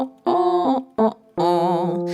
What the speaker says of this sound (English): next thing we're going to do is a French nasal sound